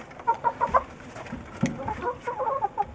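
Backyard hens cluck in short, close, moderately loud bursts of several quick notes, with scattered scratching and shuffling between the calls.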